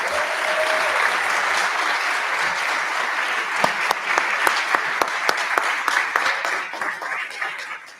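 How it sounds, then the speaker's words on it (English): An audience at a board of education meeting gives dense, sustained applause that fills the hall for several seconds, with a few sharper individual claps near the end before it begins to fade. "So how about a nice round of applause for Mr."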